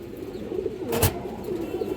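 A pigeon coos in a steady low murmur, with a brief sharp knock or flap in the middle and the cooing resuming after it.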